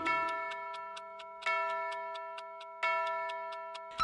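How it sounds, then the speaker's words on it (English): A clock chimes three times, each ringing strike fading before the next, with steady ticking underneath. "The clock struck three."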